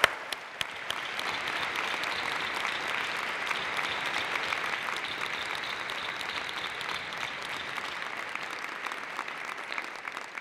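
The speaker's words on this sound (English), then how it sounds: "Please join me in giving them a heartfelt round of applause for their conversation today." Sustained, loud applause from a luncheon audience at a Martin Luther King, Jr. Day celebration honoring panelists, dense clapping holding steady for about ten seconds with no speech.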